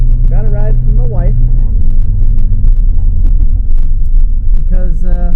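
A Chevrolet Squarebody Suburban with tire problems drives down the road, a steady low engine and road rumble running throughout while people talk over it.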